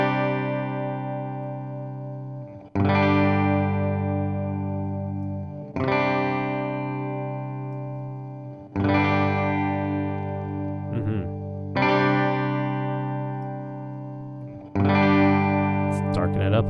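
Electric guitar played through plate reverb, six struck chords each ringing out with a bright, lingering wash that decays before the next strike, alone and up front.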